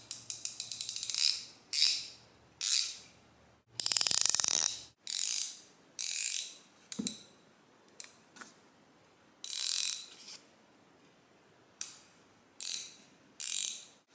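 Bursts of dry, rapid clicking come from an ICON 3/8 swivel head ratchet, the pawl ratcheting in short runs of varying length separated by brief silences, crisp and close up with no talking.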